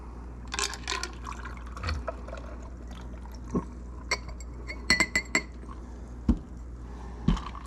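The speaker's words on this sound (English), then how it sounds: "I'm going to pour the big one into the medium one" Glass cocktail vessels clink sharply several times during the pouring of a Bora Bora cocktail from a large glass into a medium one, with faint liquid pouring between scattered close taps.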